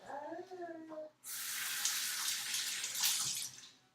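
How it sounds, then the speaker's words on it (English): A tap runs steadily to rinse out a funnel during a DIY dry shampoo and body wash session, a close, full hiss of flowing water lasting a few seconds after a short spoken phrase. "I'm going to try to clean my funnel out real quick. Let me run it through the wash."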